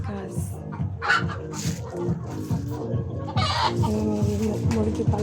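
Chickens cluck and squawk close by on a rooftop where they are kept, several birds calling in irregular bursts, with a person talking between the calls.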